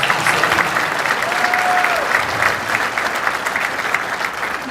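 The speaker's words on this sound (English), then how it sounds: "so let's get a round of applause for that." Banquet audience at a girls' hockey awards dinner gives a round of applause, steady dense clapping throughout, with a faint whistle-like tone briefly riding over it.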